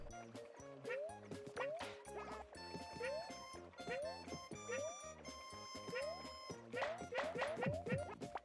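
Dogs barking repeatedly in the video game Yoshi's Crafted World, short yips recurring in a steady pattern over bright game music with sliding tones and chimes.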